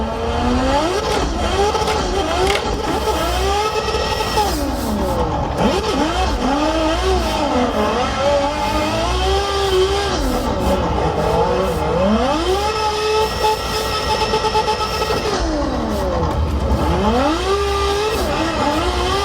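Drift car driven in a racing simulator with slightly delayed throttle, its engine loud and close, revving up and down in repeated swooping sweeps through corners with occasional tire squeal and no talk.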